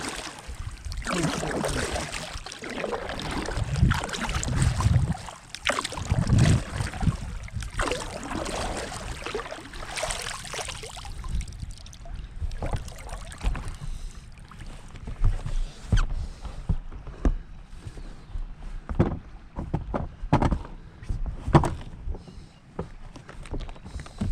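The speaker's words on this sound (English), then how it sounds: "So I got time to start paddling" A canoe or kayak paddling upriver on the Maries River, with irregular watery splashes and swishes of paddle strokes over a soft flowing background, close to the microphone, with no speech.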